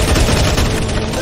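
Dense, continuous gunfire from several weapons as players shoot a boss in CS:GO Zombie Escape, loud and close with no pauses.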